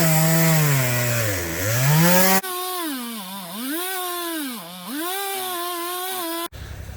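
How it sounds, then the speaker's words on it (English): A chainsaw engine droning steadily, its pitch dipping and rising as the chain bites into a tree stump, then cutting off abruptly at the end. "I think we're going to just try cutting this with the chainsaw into some manageable pieces"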